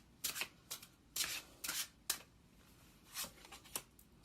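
A deck of tarot cards is shuffled in several quick bursts of riffling and flicking, close and fairly quiet, with brief pauses between them.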